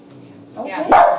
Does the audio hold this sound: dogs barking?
yes